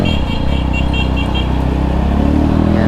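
A Triumph Trident 660 naked motorcycle's three-cylinder engine pulls hard and loud through the gears, a steady dense roar with a faint high whine riding over it for the whole stretch.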